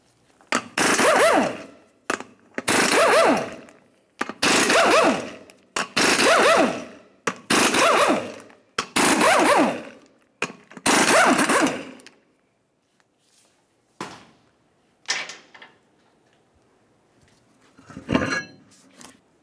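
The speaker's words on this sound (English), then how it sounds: "Remove all 8 of those and then the wheel." Impact wrench bursts spin off the eight 24 mm lug nuts on a 1994-2002 Dodge Ram 2500 front wheel: seven loud, rapid rattling bursts, each about a second long, then a few scattered clanks as nuts and the wheel come off.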